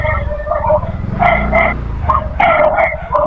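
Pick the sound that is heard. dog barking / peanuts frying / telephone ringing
dog barking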